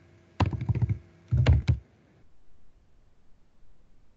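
Two short bursts of computer keyboard typing at a desk, quick clustered key taps close to the mic, followed by near silence.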